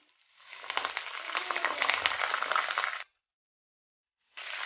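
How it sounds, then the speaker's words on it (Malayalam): Chicken pieces deep-frying in hot oil with curry leaves, a dense steady sizzle for about three seconds, then a brief silence before the loud crackling resumes. "അപ്പോൾ അവസാനമായിട്ട് നമ്മൾ ഫ്രൈ ചെയ്തെടുക്കുമ്പോൾ ഇതിലേക്ക് കുറച്ച് കറിവേപ്പിലയും കൂടി ഇട്ട് കൊടുക്കാം"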